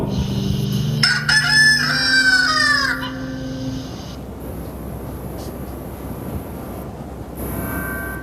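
A rooster crows loudly and close, one long rising-and-falling call, followed by quieter background ambience with faint tonal sounds, during a church Passion Sunday service.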